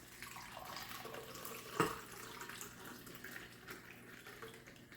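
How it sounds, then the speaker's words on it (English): Whiskey punch pours from a cocktail shaker into a lowball glass as a faint, quiet trickle of liquid, with one brief louder splash near the middle and no voices. "So we take the top off and pour it in a low ball"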